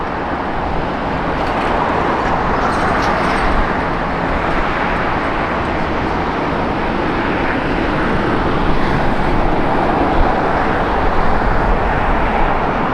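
A JetBlue airliner takes off at LAX, producing a loud, continuous jet roar that holds steady for several seconds, with no speech.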